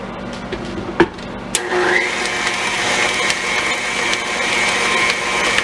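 An electric mixer beats pecan pie filling in a bowl, running with a steady loud whir after a couple of sharp clatters as it starts, continuous to the end.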